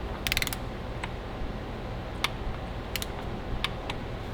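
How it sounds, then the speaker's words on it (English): A 3/8-inch drive torque wrench with an adapter tightens an oil filter on a Ferrari, giving sharp, sparse ratcheting clicks in small clusters over a steady low background hum. "Used with my favorite 3/8 drive torque wrench and an adapter."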